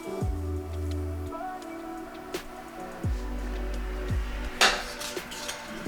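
Dry biscuit ingredients of flour, sugar and salt stirred together in a bowl, with a utensil clinking and scraping against the dish in irregular taps and knocks at close range.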